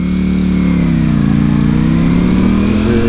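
A motorcycle engine runs loud and close under a steady, twisting throttle, its droning tone rising and falling slightly as gas is fed, continuous with no talk over it.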